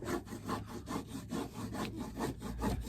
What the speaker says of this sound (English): It's a multi-tool.